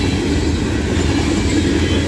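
Norfolk Southern freight train 594, led by locomotive NS 7532, rolls through Karns, Pennsylvania, with a loud, steady rumble and wheel noise close by and no voices.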